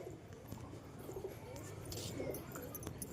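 Domestic pigeons kept as breeding pairs coo in low, throaty, repeated phrases, fairly close and steady throughout, with a few faint chirps mixed in.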